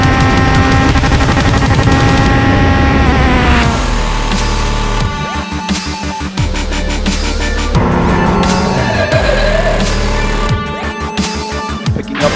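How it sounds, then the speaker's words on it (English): Atlantic series open-wheel race cars accelerating down the long backstretch at Virginia International Raceway, a loud, dense engine roar with pulsing revs and gear changes that swells and shifts as cars pass close by. "Race leaders now accelerating down the long backstretch here at Virginia International Raceway."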